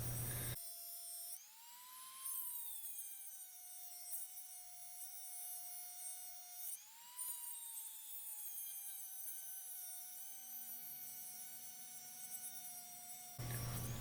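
Rotary tool cutting through a die-cast Hot Wheels car chassis, a steady high-pitched whine from the spinning motor that briefly dips and rises in pitch as the bit bites into the metal, loud and continuous with no talking.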